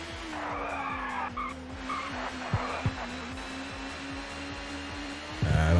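Touring cars race in the ToCA Touring Car Championship video game at Thruxton, with engines droning steadily and tires squealing through a corner, loud and continuous, and no talk.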